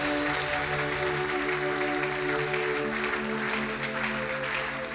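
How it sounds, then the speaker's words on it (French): A church congregation applauds during a worship seminar, continuous clapping over sustained musical tones from instruments or singing, steady and fairly loud throughout. "Donne une offrande d'acclamation à Jésus-Christ."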